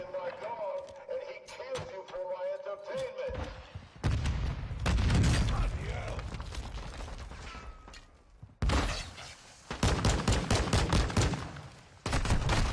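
Rapid bursts of gunfire in a video game set in an arena, loud and dense, arriving in several volleys with brief gaps, backed by game noise and some talk.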